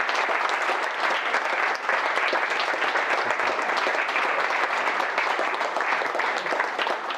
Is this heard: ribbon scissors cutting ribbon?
no